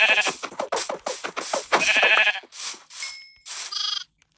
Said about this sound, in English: Oh, hi, baby sheep.